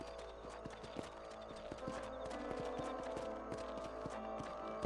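Horse hooves clip-clopping steadily while riding in Red Dead Redemption, a quiet, regular galloping rhythm of muffled hoof beats with faint game ambience.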